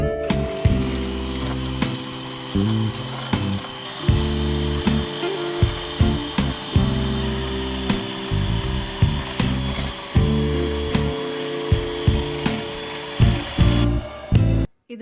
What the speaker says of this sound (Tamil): இப்போ இதை நல்லா பீட் பண்ணிக்கலாம்.